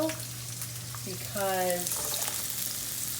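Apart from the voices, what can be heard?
frying in hot olive oil in a pan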